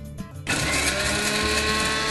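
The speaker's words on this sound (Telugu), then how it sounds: "దీన్ని ఒక్కసారి మిక్సీ పట్టుకోవాలి" A mixer grinder blending mango ginger starts abruptly after a brief quiet moment, then runs at a loud, steady, high-pitched whir to the end.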